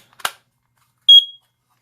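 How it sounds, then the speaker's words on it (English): A sharp click is followed by a single short, high-pitched electronic chirp from a First Alert dual-sensor ionization/photoelectric smoke alarm, then silence. "It should chirp when we shut this."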